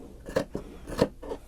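A few quick scissor snips cutting dress fabric along the armhole angle, close and quiet, with no talk.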